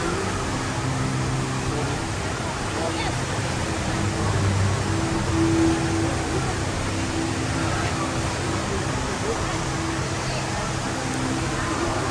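A steady, dense rush of falling water from an indoor waterfall in Singapore fills the whole stretch, a constant even roar with faint voices buried beneath it.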